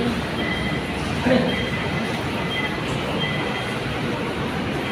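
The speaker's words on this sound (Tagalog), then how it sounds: "Here at MRT station." Steady rumble of an MRT metro train at a station platform, wheels grinding and faint squeals over a constant roar, no talk.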